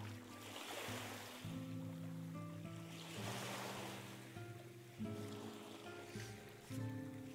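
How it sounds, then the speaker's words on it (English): Ocean waves washing up on the shore in the Star Ocean: The Second Story R video game, a soft, steady surf rolling under quiet layered background music. "I like the sound of the waves washing up on the shore"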